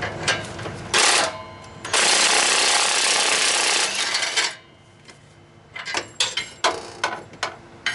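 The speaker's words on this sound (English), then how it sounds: "we'll use my battery half inch impact" Battery half-inch impact wrench removing bolts on a 2004 Toyota Celica during catalytic converter replacement: loud sustained hammering bursts of several seconds, then a quieter pause and a series of short rattling impacts.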